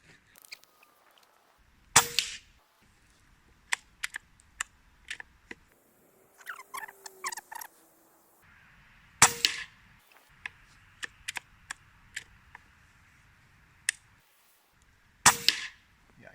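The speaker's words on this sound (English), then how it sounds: "I'm doing test shots, adjusting scope, as you can see here" Benjamin Marauder .22 caliber (5.5 mm) PCP air rifle firing test shots at about 30 meters: three sharp, loud cracks spaced several seconds apart, with smaller mechanical clicks and clacks in between and no talking.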